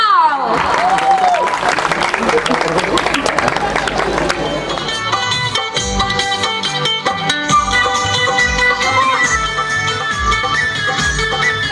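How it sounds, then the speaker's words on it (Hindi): Wedding guests clap loudly as the couple's parents are welcomed, a dense, sustained applause that soon runs under rising music and crowd noise. "सो जोरदार तालियों के साथ मम्मी एंड पापा इज हियर नाउ"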